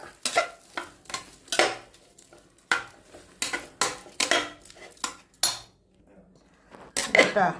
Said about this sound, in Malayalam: ചക്കയിലേക്ക് ഒഴിച്ച് കൊടുത്തു നല്ലോണം ഒന്ന് ഇളക്കുക